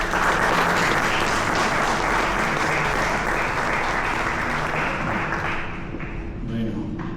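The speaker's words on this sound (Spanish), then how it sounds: "Recibámoslo con un fuerte aplauso." An audience at a book launch in October 2025 gives a sustained, dense round of applause to welcome a speaker, filling the room steadily for several seconds before thinning slightly near the end.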